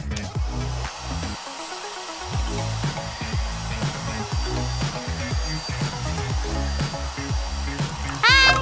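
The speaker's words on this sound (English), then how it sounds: "It's time to melt the figurine with the hair dryer." Hair dryer blowing on a gallium figurine to melt it, a continuous whooshing motor drone with fluctuating pulses and a brief dip, running close and loud throughout.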